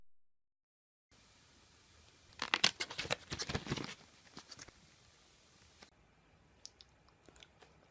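Rain starts to fall in a quiet outdoor setting: a brief cluster of pattering drops, then scattered single taps, faint and close.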